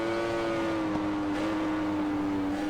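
Motorcycle racing engine in the video game Ride 4, a steady high-pitched whine held at near-constant pitch with a slight dip midway, loud and continuous throughout with no talk.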